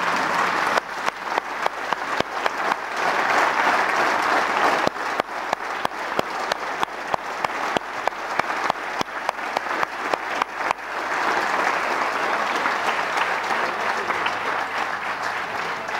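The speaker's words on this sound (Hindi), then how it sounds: "मैं चाहूँगा कि सदन एक बार खड़ा होकर तालियां बजाकर उनका अभिवादन करें।" Members of India's Lok Sabha stand and applaud in the parliament chamber, a dense, sustained roar of many hands clapping that holds steady for a long stretch, with a brief dip midway before swelling again.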